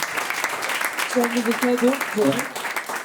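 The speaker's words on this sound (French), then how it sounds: "je vous laisse les applaudir" Audience applause at the close of a talk on trains and intermodality at a festival, steady clapping from a crowd with a voice speaking briefly over it midway.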